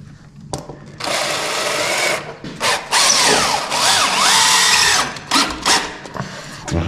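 A power drill drives a screw to anchor an LED strip profile, whirring loudly and close in several sustained runs with short pauses and pitch changes between bursts.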